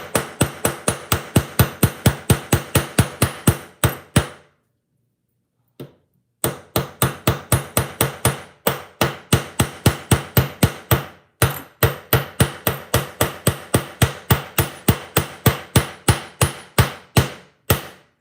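Hammer flattening jewelry wire, dozens of sharp metallic strikes in steady fast rhythm, close and loud, in three runs separated by brief pauses.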